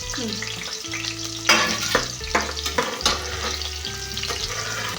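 Masala frying in a pan for Sunday mutton sambar, a crackling sizzle broken by repeated scraping and clanking spatula strokes against the pan, close and steady, with a low tonal hum in the background.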